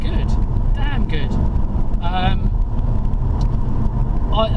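A Ford Mustang GT 5.0 V8 on the road in sports plus mode, its deep engine drone and road rumble steady and loud under a voice talking inside the car.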